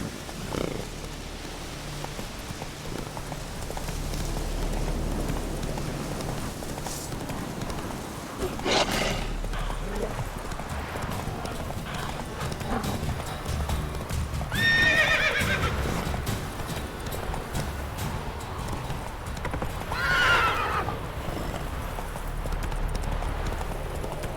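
A horse gallops in The Witcher 3: Wild Hunt. Steady hooves clip-clop under low rumbling, and the horse neighs loudly a few times along the way.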